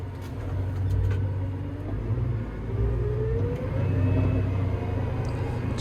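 A car engine with a suspected fuel rail problem runs and shifts smoothly up through the gears, a low steady rumble rising and dipping with each change in revs, heard from inside without talk.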